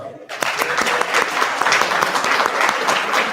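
A crowd breaks into loud, sustained applause, bursts of clapping that stay steady for a few seconds.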